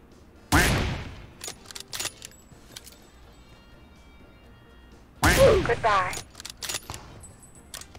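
Sniper rifle fire in the mobile battle royale game PUBG Mobile: two loud, sharp reports several seconds apart, each trailed by a short jangling tail and scattered small clicks, with game noise in between.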